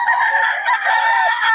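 Chickens cluck and crow up close, a busy overlapping chorus of fowl calls with no talking.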